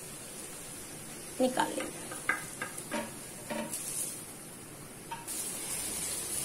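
Koftas frying in oil for a Hyderabadi kofte ka salan give a steady bright sizzle, broken by several sharp clacks and scrapes as they are turned, with a short spoken remark over it.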